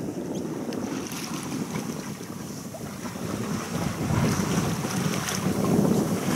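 A sailboat moves through flat seas in about six knots of wind, with steady wind rush and microphone buffeting over a continuous wash of water along the hull, fairly loud and swelling toward the end, with no talk.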